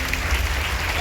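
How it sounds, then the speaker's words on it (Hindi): A brief burst of dense applause from an audience at a motivational gathering, a steady wash of many hands clapping together, loud and continuous with no separate claps standing out. "एक बार जोरदार ताली होना चाहिए"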